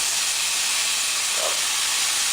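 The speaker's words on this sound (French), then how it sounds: "Vous mettez le rhum dans la casserole et vous aidez d'un briquet." Rum flambéed in a saucepan, lit with a lighter, gives a steady, loud broadband hiss, continuous throughout with a brief faint tonal flicker in the middle.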